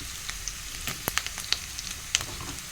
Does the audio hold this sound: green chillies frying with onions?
yes